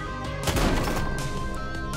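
A gunshot in the video game iLLWill sounds as one sharp burst that rings out briefly, with a dense crackling tail behind it, heard over game background sound.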